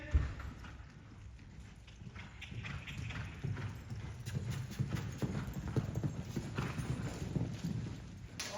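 Hooves of a reining horse clip-clop on an arena surface during a rundown, a quiet, steady rhythmic beat that builds slightly in pace and loudness as the horse runs down the pen.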